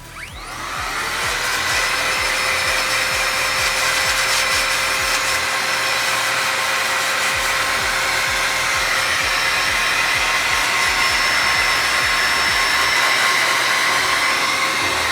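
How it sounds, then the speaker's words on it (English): A battery-powered air duster blows a steady, loud, continuous stream of air to clear excess makeup powder, starting up in the first second and holding an even whooshing whine throughout with no talking. "I'm going to use my battery-powered air duster and blow away any excess"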